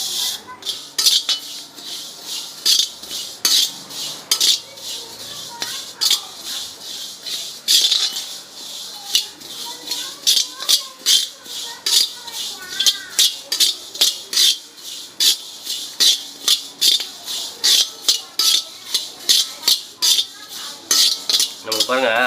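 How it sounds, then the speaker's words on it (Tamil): Fennel seeds, about 100 grams, are dry roasted in a metal pan for curry powder, with a spatula scraping and rattling against the metal in quick repeated strokes, close and loud throughout. "சோம்பு வந்து 100 கிராம் வறுத்துக்கலாம்."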